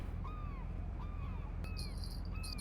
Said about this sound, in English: I hear the birds ahead of us